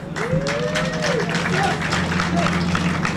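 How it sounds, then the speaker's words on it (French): A crowd at a press conference for the Léopards de la Sape applauds steadily and fairly loudly, a dense continuous clapping with voices and calls rising over it. "que je vous demande d'applaudir très très fort"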